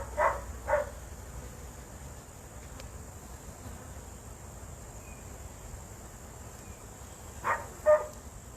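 A pet dog barks in two short bursts, once at the start and again near the end, over a steady outdoor insect hum around a backyard honey bee setting.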